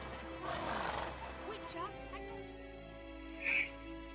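A horse from the video game The Witcher 3 gives a brief neigh during an in-game dismount, heard beneath someone talking over it.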